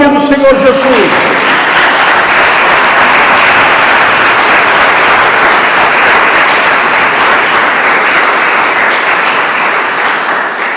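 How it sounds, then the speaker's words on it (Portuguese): A church congregation breaks into sustained applause during a Portuguese-language worship service, a dense, loud wash of clapping that follows a brief spoken phrase at the start and holds steady to the end. "Vamos aplaudir o nome do Senhor Jesus."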